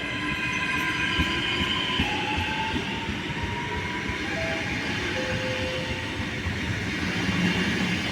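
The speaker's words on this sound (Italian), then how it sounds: "regionale veloce 3982 di Trenitalia, proveniente da Bologna Centrale e diretto a Venezia Santa Lucia delle ore 16:53 è in arrivo" A Trenitalia regional express train arriving at Padova station, wheels rumbling and clacking over rails with high squeals of braking steel, loud and close throughout, with no talk.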